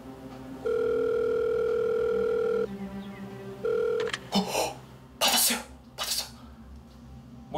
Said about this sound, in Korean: 과연 모모 귀신이 전화를 받을지 한번 제가 시도해보겠습니다